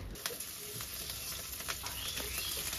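Hilsa fish head frying in hot oil, a steady close sizzle broken by soft clicks and pops of stirring, with no talking.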